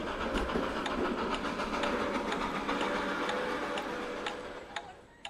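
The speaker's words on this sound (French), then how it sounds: "les bruits des roulements et les bruits aérodynamiques se diffusent dans l'immensité de la gare de l'Est" Train wheels rolling and aerodynamic rush echo through the vast Gare de l'Est station in Paris, a steady reverberant rumble with faint rhythmic clicks that fades toward the end.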